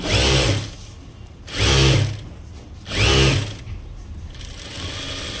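Close, loud sewing machine stitching piping for a blouse, three short motor bursts about a second each with quieter handling between them.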